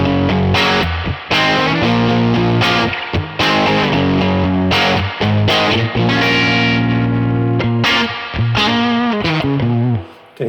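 Distorted electric guitar plays loud chords and short riffs through an overdriven, simulated Fender Deluxe amp, with choppy rhythmic stops and a saggy, reverberant tone.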